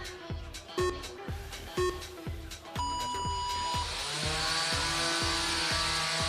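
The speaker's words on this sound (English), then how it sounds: "You can hear the rev of their motors going." Combat robots at a bot battle event rev their motors in an arena, whining motor tones rising and falling while sharp, loud metallic hits land in a quick, uneven series.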